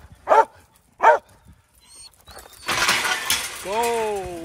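Dogs at a puppy training and agility school on a very cold day give two loud, separate barks, followed by mechanical rattling and a drawn-out whine.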